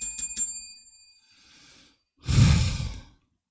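A live show's bell sound effect rings out as a few quick bright dings, followed by a soft breathy sound and a louder sigh-like exhale, with no clear speech.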